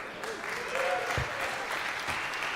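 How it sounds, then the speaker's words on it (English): An audience at an entertainment awards ceremony applauds steadily, a soft dense patter of clapping that holds evenly throughout with a few louder claps, heard from a moderate distance. "You're welcome to applaud."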